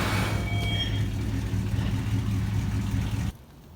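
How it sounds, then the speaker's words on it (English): A pickup truck engine runs roughly, a steady low rumbling drone with uneven throb for over three seconds before cutting off abruptly to near silence. "Man, my truck sounds awful."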